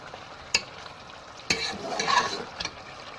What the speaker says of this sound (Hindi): और अब मैं इसकी भुनाई शुरू करूँगी।